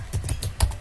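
A quick run of about five key presses on a computer keyboard while typing in MS Word, with close, crisp clicks coming in an uneven rhythm.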